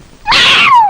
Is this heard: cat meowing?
yes